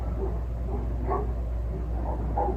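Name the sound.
dogs barking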